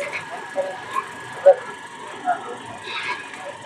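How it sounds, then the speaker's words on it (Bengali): A Cox's Bazar Express train pulls out of Kamalapur railway station in Dhaka, with a low steady rumble and several soft clunks and knocks from the carriages, heard from inside a coach with faint background voices. "ট্রেন কমলাপুর রেল স্টেশন থেকে ছেড়ে দিল।"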